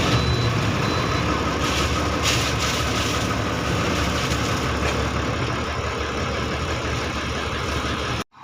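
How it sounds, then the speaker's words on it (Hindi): Truck engine running at a steady idle, a loud, dense rumble that holds throughout before cutting off abruptly at the end. "तो अब गाड़ी को थोड़ा सा स्टार्ट कर लेते हैं।"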